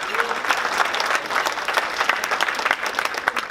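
Audience applause fills a room at a volunteer appreciation luncheon in Palmdale, a steady dense clapping from a crowd that carries on evenly throughout without a break.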